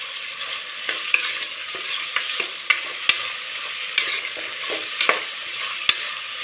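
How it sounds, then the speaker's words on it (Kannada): Capsicum, peas and onion frying in oil for tomato bath, a steady close sizzle broken by sharp clicks and scrapes of stirring at irregular intervals, with no voices. "ಬಟಾಣಿ, ಈರುಳ್ಳಿ, ಕ್ಯಾಪ್ಸಿಕಮ್ ಎಲ್ಲ ಒಂದೇ ಸಲ ಫ್ರೈ ಆಗೋಕ್ಕೆ ಸಾಕು"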